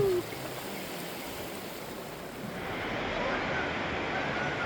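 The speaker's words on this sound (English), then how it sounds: "The river is roaring" A river in North Georgia roars steadily with broad rushing water noise that swells slightly louder toward the end, close and continuous with no talking over it.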